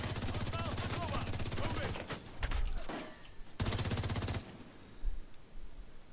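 Sustained automatic gunfire rattles in The Division 2, rapid shots streaming for several seconds with short breaks and a few heavier impacts, while a player's voice comes through faintly beneath.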